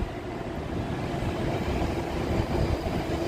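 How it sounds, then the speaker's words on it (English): A small red train rolls past on a Tokyo street, giving a steady, even rumble of wheels and carriages at moderate distance with no voices over it. "Look at that cute red little train"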